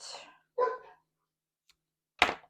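A few dog barks at a distance, separated by silence, with one sharper bark near the end.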